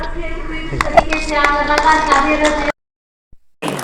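Applause from the audience at an iconic women award ceremony in Delhi, a dense steady clatter of many hands lasting about three seconds and then cutting off abruptly into silence.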